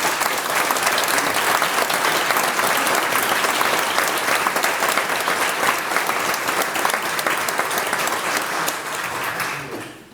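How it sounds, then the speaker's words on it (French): An audience inside a parish church breaks into dense, sustained applause at a 150th anniversary celebration, steady and close for about nine seconds before fading away at the end. "J'aimerais qu'on leur donne une bonne main d'applaudissements."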